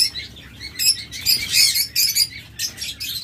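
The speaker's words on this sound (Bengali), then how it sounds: "অনেক ডায়মন্ড ডাব রয়েছে আমাদের কাছে" Many diamond doves kept together by a bird seller give a busy stream of high, thin chirps in quick overlapping bursts, fairly close and steady, with no one talking.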